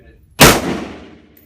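A single loud gunshot at an indoor shooting range in Miami: a sharp, close blast followed by a decaying reverberant tail.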